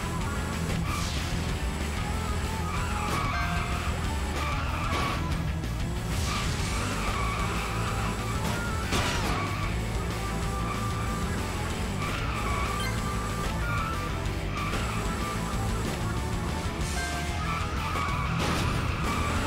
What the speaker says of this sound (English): I hit the brakes there to try and come around